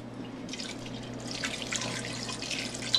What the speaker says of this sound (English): We're going to add the potatoes. And the broth.